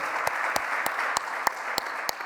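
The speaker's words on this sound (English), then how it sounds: "That definitely deserved a round of applause." Audience applause at a policy panel discussion, a steady bed of clapping from a room of people, punctuated by several sharp, evenly spaced louder claps standing out near the microphone.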